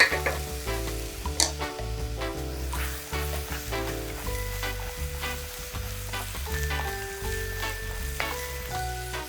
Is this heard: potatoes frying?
yes